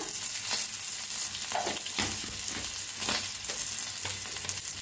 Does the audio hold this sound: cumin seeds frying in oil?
yes